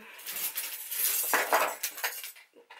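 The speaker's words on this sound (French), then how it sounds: "c'est la chute des ciseaux." Metal scissors fall and clatter on a hard surface, a bright jangling metallic rattle with a few quick bounces, close and fairly loud, fading out after a couple of seconds.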